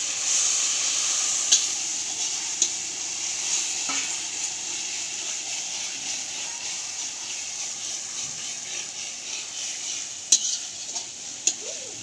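Ginger garlic paste sizzles steadily in a hot pan on a home stove, stirred throughout with occasional sharp scrapes and clacks of the spoon against the pan, steam hissing underneath.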